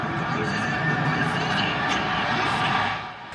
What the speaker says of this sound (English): And all you're listening to is the game, the crowd.